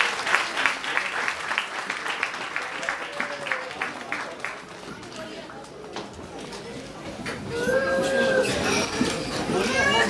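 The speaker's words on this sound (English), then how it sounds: "Let's hear a big round of applause, please." Audience applause at an award ceremony as spouses are called up on stage, dense clapping throughout that swells louder toward the end, with voices mixed in.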